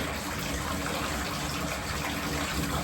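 Water gushes steadily into a bathtub while Bath and Body Works aromatherapy is poured in, a close, continuous rushing pour with no talking.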